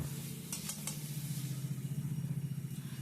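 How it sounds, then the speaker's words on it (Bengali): Masala with garlic and black cumin sautéing in oil, a soft continuous sizzle under a low steady hum, with a few quick stirring clicks early on. "তাও একটু তেলে ভালো করে একটু কষিয়ে নেবো ভালো করে একটু নেড়ে ছেড়ে"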